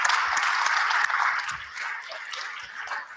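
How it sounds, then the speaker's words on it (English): An audience at a church service gives a short round of applause, a dense patter of clapping that fades slightly over a few seconds. "Let's give Rebecca a round of applause"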